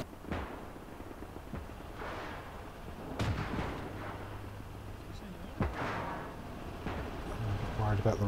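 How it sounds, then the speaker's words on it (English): Artillery shells landing in the Gates of Hell strategy game, several distant booming impacts spread across the clip over a constant background rumble, with a voice talking. "Artillery's landing on it."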